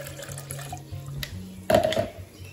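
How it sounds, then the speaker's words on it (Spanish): Water poured into a cooking pot in a kitchen, a sudden louder splashing gush near the end after quieter clinks and handling sounds. "por aquí en la cacerola vamos a agregar el agua."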